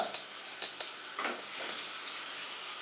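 Chicken roast being stirred in a pan for a Kerala-style recipe, a steady sizzle with a few soft scraping strokes of the spoon, close and moderately loud, no talking.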